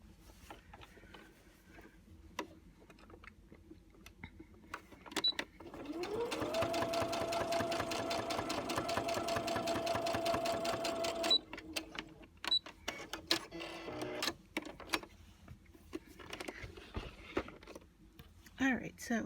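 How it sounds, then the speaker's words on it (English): A sewing machine stitches a fabric bowl cozy in one steady, fast mechanical run of needle strokes lasting several seconds, surrounded by quieter clicks and handling of the fabric. "a real quick stitch along that line"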